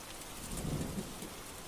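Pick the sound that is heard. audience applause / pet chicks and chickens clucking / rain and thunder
rain and thunder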